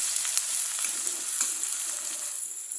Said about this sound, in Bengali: পেঁয়াজটা যতক্ষণে নরম হবে আমি ততক্ষণ ভেজে নেবো